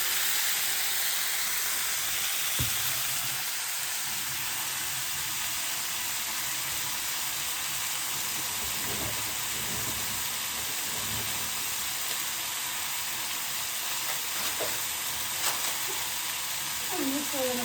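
Roasted masala fries in a pan with brinjal curry, giving a steady, continuous hiss and sizzle throughout, with a few faint clinks and soft stirring noises beneath.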